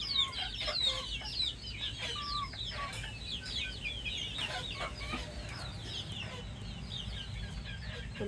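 A steady chorus of chickens clucking and chirping close by, continuous and busy, with a low background hum throughout.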